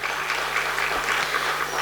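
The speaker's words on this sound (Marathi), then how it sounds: "तुमच्यासाठी जरा जोरदार टाळ्या होऊन जाऊ द्या." Audience applause rises at a Mata Ramai Jayanti lecture held at Dhammachakra Buddha Vihar in Shahu Nagar, Chinchwad: a dense, steady clapping from a hall full of people, sustained at an even level for the whole stretch.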